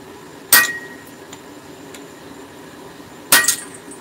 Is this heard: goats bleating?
no